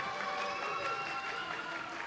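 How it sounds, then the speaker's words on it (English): Applause from a wrestling show audience, a steady wash of hand claps that holds at an even level for a couple of seconds without breaks. "can we give a round of applause that he actually showed up to this show"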